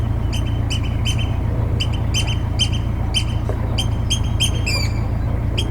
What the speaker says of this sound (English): That noise you can hear are oyster catchers.